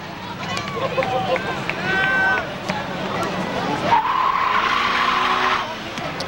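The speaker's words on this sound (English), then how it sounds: "And it looks like he's going a little crazy there as he tries to heat up those rear tires." A Toyota Supra race car spins its rear tires at a speedway to heat them. Loud, wavering tire squeals and engine revs rise and fall over several seconds, with an announcer talking over them and crowd noise behind.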